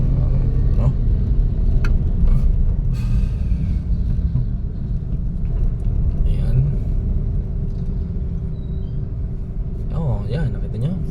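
Heavy road traffic on Ebony Paseo near A. Bonifacio Avenue, with a loud, steady rumble of car and motorbike engines throughout and a person talking over it.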